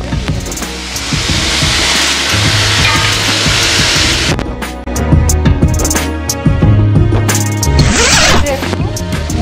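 A tomato drops into a hot kadai of spiced oil, setting off a broad, steady sizzle and spatter that flares loudly and keeps crackling, with clinks of a utensil against the pan.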